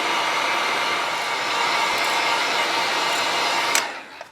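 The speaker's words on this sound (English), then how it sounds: "Again, put a heat gun to it or your hair dryer." A hair dryer blows a constant loud whooshing roar while drying black paint on a Spro fishing lure, running steadily and then clicking off near the end.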